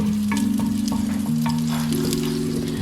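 A large onion sizzles in preheated oil while being mixed for an aloo matar curry, loud steady frying hiss with scraping spoon strokes and a low hum underneath, no talking.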